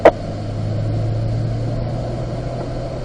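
A Chevrolet Corvette driving on a track course in Las Vegas gives a steady, low engine drone from inside the car, with a sharp click at the very start and no change in pitch.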